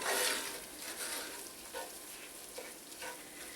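Flour stirred into hot sausage fat in a pan over medium heat for sausage gravy, with a soft continuous frying hiss and faint scraping strokes, close and fairly quiet.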